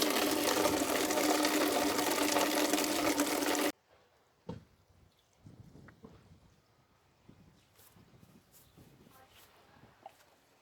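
A watering can filled with water and liquid plant feed for vegetable plants, a loud steady gush of running water that stops abruptly, followed by quiet handling knocks and rustles.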